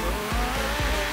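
One-off Audi R8 dragster with a roughly 7,000-horsepower engine in the racing game Forza Horizon 3, its loud engine and exhaust roaring hard under acceleration, with quick shifts breaking the continuous blare.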